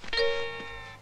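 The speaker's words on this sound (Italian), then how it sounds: "Mi faccia togliere quell'equivoco e lussurioso campanello" A doorbell chimes in a dentist's office, a single clear ringing tone with bright sustained harmonics that fades over about a second, fairly quiet and heard alone.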